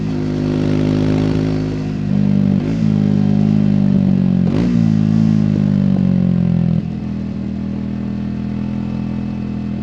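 A 2024 Triumph Speed 400 motorcycle pulls on the road in third gear, a loud, close engine drone with steady harmonics that shifts slightly in pitch and eases off near the end.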